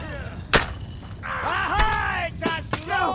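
Cannon fire in the medieval battle game Kingdom Come Deliverance II: sharp booming blasts at about half a second and near the end, amid shouting voices and battle din.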